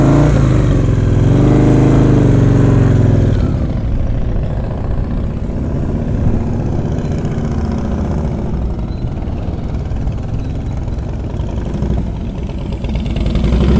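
Motorcycle engine held at low revs during slow-speed riding drills, a loud, continuous close rumble with a brief rev swell at the start before settling into a steady idle-like drone.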